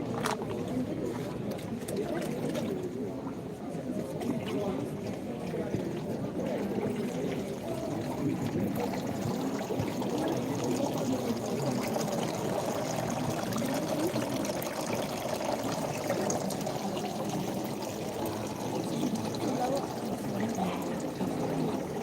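Water solution runs continuously through a hydroponic growing setup at a school science exhibition, a steady pouring, trickling wash with a crowded hall murmuring around it.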